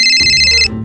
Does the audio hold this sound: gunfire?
no